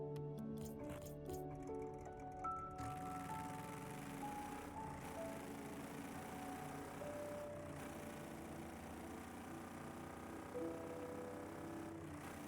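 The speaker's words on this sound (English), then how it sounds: "We'll take a listen to the engine sound" A car engine in the video game Rocket League runs steadily with layered droning tones that rise and shift in pitch, loud and continuous throughout.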